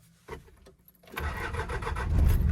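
A pickup truck engine starts after a few clicks and a brief crank, then catches and settles into a rising, rumbling idle close by.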